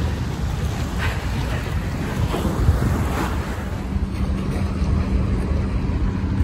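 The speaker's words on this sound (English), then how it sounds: "Smell the air, the breeze of the ocean." Waves and a strong sea breeze at Doha Corniche make a loud, continuous roar of surf and buffeting wind noise across the microphone, with no voices.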